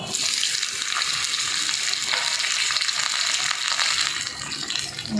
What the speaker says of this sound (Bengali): আলুটা আস্তে আস্তে করে ভাজা হচ্ছে কাঠের জালে রান্না